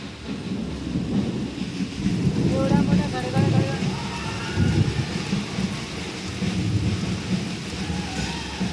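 Heavy monsoon rain pours steadily at a home during a power cut, with thunder rumbling low beneath the downpour and voices talking over it now and then.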